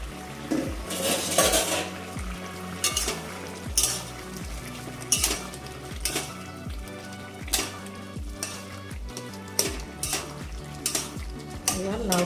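Bottle gourd sautés in a pan for lau chingri, a soft continuous sizzle broken by repeated close scrapes and clinks of a spatula as it is stirred.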